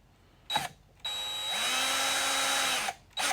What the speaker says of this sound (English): I'm going to use the star bit and the drill